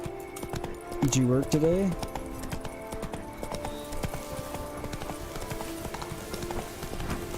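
Horse hooves clip-clop at a steady trot in the video game The Witcher 3: Blood and Wine, the rhythmic clopping running under someone talking, with a brief whinny early on.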